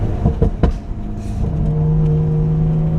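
A BMW B58 engine with a front-mount intake and open exhaust pipes gives a few sharp blips, then settles into a loud, steady droning rev held close by.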